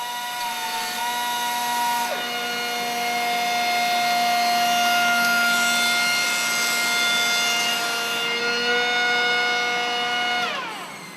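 A Vector Revolution 180 edgebanding machine banding, trimming and scraping panels in one pass gives off a steady mechanical whine with sustained tonal hums that shift pitch, loud and continuous, then winds down at the end.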